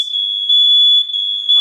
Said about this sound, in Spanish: la alarma del humo